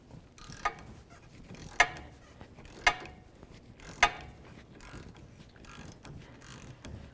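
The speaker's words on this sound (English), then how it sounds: "14 millimeter socket, I'm going to do it by hand because I don't want to strip it with an air gun" A half-inch ratchet turns a 14 mm socket by hand on the front hub bolts of a 2005-2009 Subaru Outback, giving a few sharp, isolated metallic clicks spaced about a second apart against a quiet garage background.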